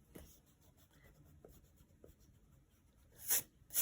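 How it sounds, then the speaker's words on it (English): An eraser rubbing out pencil sketch lines on drawing paper, a quiet close scrubbing texture with a few soft taps, ending in two brief louder brushing sweeps. "I'm going to go ahead and erase all the sketchy."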